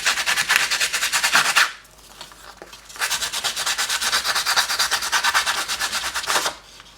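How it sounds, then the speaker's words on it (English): A sandpaper-backed distress tool sands embossed paper in two long bursts of quick, rhythmic back-and-forth scratching, close and fairly loud, separated by a brief pause. "I have my distress tool that has a little kind of sandpaper on the back. And what you do is you just kind of sand off the top."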